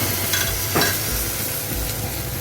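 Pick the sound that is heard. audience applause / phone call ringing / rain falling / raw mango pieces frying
raw mango pieces frying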